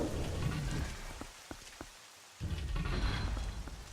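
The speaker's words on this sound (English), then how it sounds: "the rain and the silence here is, for some reason, for me, personally, just really powerful" Steady rain pours down in a stormy scene in The Legend of Zelda: Twilight Princess, a dense close hiss with a few drops standing out and a brief lull near the middle.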